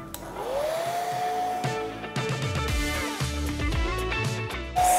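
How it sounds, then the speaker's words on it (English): A hair blow dryer runs steadily while drying alcohol ink on Yupo paper, its whine rising in pitch at the start and shifting as the airflow is moved, loud and close with no talking. "Now we're going to, again, aim the blow dryer at the outside and slowly bring it in as it dries."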